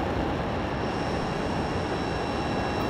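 Steady, loud roar of an airplane engine in Microsoft Flight Simulator, a broad unbroken whoosh holding level with no talk over it.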